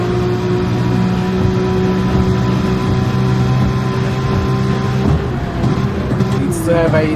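Ferrari race car in a racing video game, a steady droning engine held at high revs under continuous commentary, shifting pitch briefly near the end as it accelerates out of a corner.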